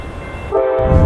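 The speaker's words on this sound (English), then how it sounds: "What would you do if you were standing at the station when a train rushed in with that kind of snow blast?" A train rushes into a station through snow, a loud steady rumble joined halfway through by a sustained tonal horn blast.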